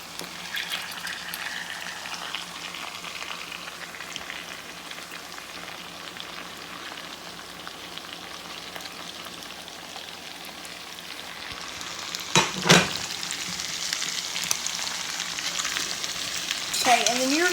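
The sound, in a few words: jambalaya ingredients frying and stirred in pan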